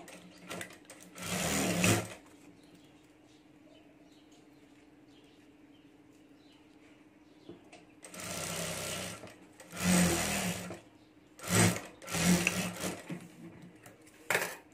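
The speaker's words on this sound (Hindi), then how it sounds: "और यहाँ हमें सिलाई कर देनी है।" Sewing machine stitches fabric for a small backpack keychain in several quick bursts of rapid mechanical chatter, separated by quiet pauses with a faint hum, close and loud.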